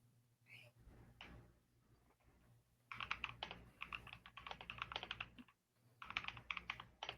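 Quick bursts of clicking keystrokes on a computer keyboard, fairly close but quiet, arriving in clustered runs with short pauses, preceded by a few soft thuds.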